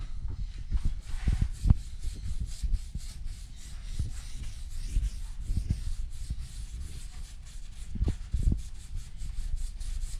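Sanding disc worked over bare car body metal during a Sierra Sapphire restoration, a continuous coarse rubbing and scraping with uneven surges and a few heavier strokes, fairly close.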